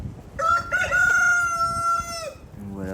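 A purebred breeding rooster crows once, loud and close, in a drawn-out call that holds for about two seconds before trailing off, with faint farmyard noise underneath.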